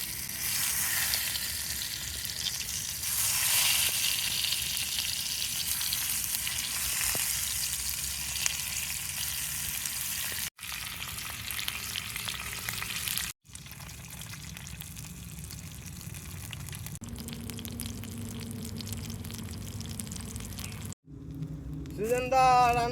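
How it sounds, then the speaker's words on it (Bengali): Tomatoes frying in hot oil in a pan for an egg and tomato fry, a continuous bright sizzle that surges and settles with stirring, with brief breaks and voices talking near the end. "টমেটোগুলো এবারে দিয়ে দিচ্ছি তেলে।"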